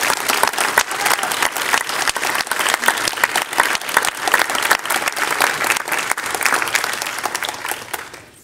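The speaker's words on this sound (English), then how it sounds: "Please join me in giving them a round of applause." Loud, dense applause in a city council chamber, continuous clapping throughout that tapers off abruptly at the very end.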